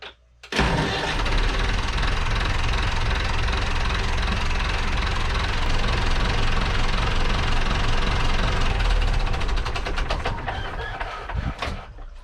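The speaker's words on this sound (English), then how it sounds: "let's start her up and see if it holds it" A boat's inboard engine, just refitted with its hoses reconnected, cranks and catches, then runs at a loud, steady idle for about ten seconds before winding down at the end.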